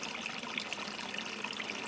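A stream flowing in snowy woods, a steady trickling babble with small bright splashes, close and fairly soft with no voices.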